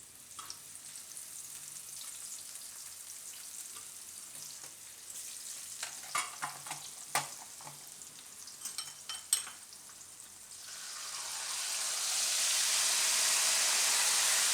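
Sweet potato chips frying in hot oil in a home kitchen, a soft steady sizzle with scattered sharp crackles and pops, then swelling into a louder, hissing bubbling roar as more slices hit the oil.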